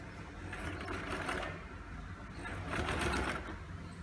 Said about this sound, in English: I'm going to take it onto my machine now, and I'm going to sew these together